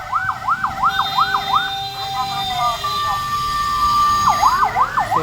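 A fire truck siren wails in rising and falling sweeps, with a steady tone and rumbling engine between, close and loud on a road, as a voice talks over it.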